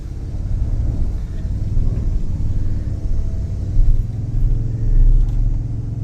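A Toyota Tundra 1794 Edition twin-turbo pickup pulling onto the highway, with a steady low engine rumble that swells in a couple of surges as it accelerates, heard from inside the cab.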